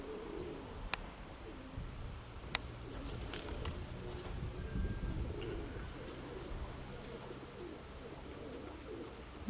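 Soft cooing from weak, out-of-shape pigeons repeats at a distance over steady outdoor background noise, with a couple of faint clicks early on.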